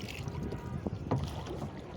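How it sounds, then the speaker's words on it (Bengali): A rowboat being rowed across open water, with soft paddle splashes and a couple of brief knocks over a light wind-blown background, no voices. "এই যে হ্যাঁ নৌকা বাইতেছে"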